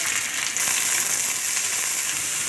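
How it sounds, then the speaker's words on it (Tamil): Onions and dried red chillies sautéing in hot oil after mustard seeds, urad dal and curry leaves, a steady loud sizzle and crackle running without a break throughout. "அடுத்து காஞ்ச மிளகாயும் வெங்காயமும் போட்டு வதக்கிக்கோங்க"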